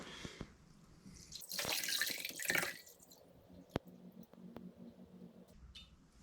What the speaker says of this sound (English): put 2 quarts out of the 4 quarts into this clean container, and it's just distilled water